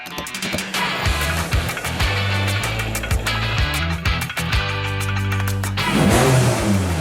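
A K-swapped Honda Civic engine running on ethanol fuel revs hard on a dyno, rising and falling through repeated loud throttle pulls, close and continuous with no talking.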